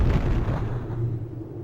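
A laser shot blasting open a giant sunken wreck in Panzer Dragoon Saga, heard as a dense, rumbling low boom that holds steady for under two seconds with no voices over it.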